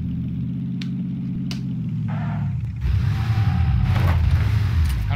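A vehicle in the video game PlayerUnknown's Battlegrounds drifts, giving a rumbling engine drone that swells into a rougher, louder tire-and-engine roar partway through, with brief whooshing transients and no speech.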